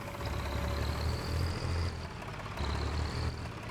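A troublesome tractor engine runs on a corn field, a low steady chug near the microphone with surges and a faint whine, no voices.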